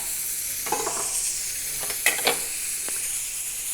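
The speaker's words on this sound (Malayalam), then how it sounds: "അപ്പോൾ ഇതൊക്കെ ഒന്ന് മറിച്ചിട്ട് കൊടുക്കട്ടെ." Pieces of food frying in a pan are turned over while cooking a homemade mandhi, giving a hissing sizzle with several clattering scrapes and bursts of louder crackle between quieter stretches.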